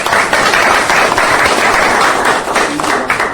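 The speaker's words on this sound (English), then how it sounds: "Clap तो बनती है." Audience at a business networking event claps in a loud, dense, sustained round of applause, close and continuous, fading slightly toward the end.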